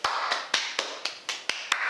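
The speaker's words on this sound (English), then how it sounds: "Round of applause for you." Eight crisp, evenly spaced hand claps at a steady quick rhythm, close and fairly loud, with nothing else behind them.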